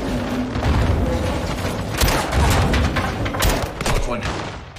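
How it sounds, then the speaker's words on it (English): Grenade explosions in the Call of Duty: Modern Warfare 2 campaign, a dense, continuous barrage of booms and gunfire-like bursts that stays loud throughout, with several sharp blasts standing out near the end. "Incoming! Take cover! They're launching grenades!"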